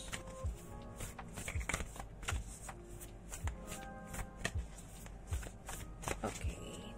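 A deck of tarot cards shuffled again and again in quick, rhythmic riffling bursts, roughly a dozen over seven seconds, close by and fairly soft with no talk.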